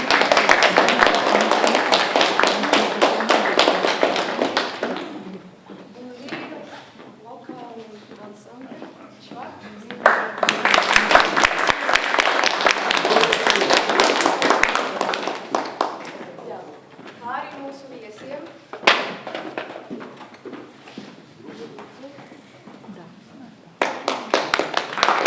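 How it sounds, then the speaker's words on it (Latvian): Audience applause at a presentation event after an ensemble performance, loud bursts of clapping in several waves separated by stretches of a voice speaking over a hall. "Aplausi!"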